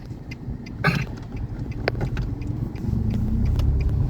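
A car climbing the steep access road to Wat Pa Phu Hai Long forest temple near Korat in low gear: a steady, droning engine hum that grows slightly heavier, with faint clicks and rattles inside the cabin.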